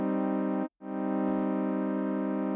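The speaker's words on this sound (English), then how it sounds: "So I'm just gonna dial up our attack time a little bit to make that smoother." A soft, warm synth pad holds a rich sustained chord with a smoother attack. It drops out briefly, then swells back in and sustains steadily, with a faint click partway through.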